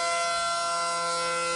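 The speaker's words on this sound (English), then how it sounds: "We're going to pick the countywide siren right here." A loud, steady outdoor tornado warning siren, part of Ottawa County's monthly test, wails continuously with a sustained tone and no pauses.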